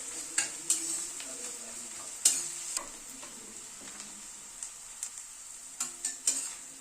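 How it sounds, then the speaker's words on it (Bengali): Crushed garlic lightly frying in a pan for a paneer and green pea paste curry, with a steady soft sizzle broken by irregular scrapes and taps as it is stirred, close and fairly quiet. "রসুনটাকে দিয়ে একটু হালকা করে ভেজে নিচ্ছি।"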